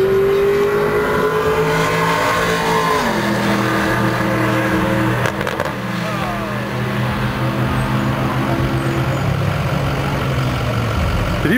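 Drag race car launching down the track, engine roaring with shifting harmonics that step through gears and then fade into the distance, loud and continuous with no talk.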